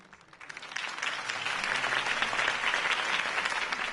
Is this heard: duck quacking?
no